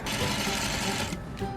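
A sewing machine runs in a quick, close, steady whir as it stitches two sides of a quilt block together, stopping briefly near the end.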